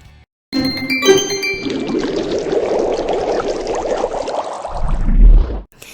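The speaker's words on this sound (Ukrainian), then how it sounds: "Миємо фрукти." Plums rinsed under running water for canned compote: a steady, close pour and splash lasting several seconds, preceded by a faint ding and ending with a deeper low rumble before cutting off.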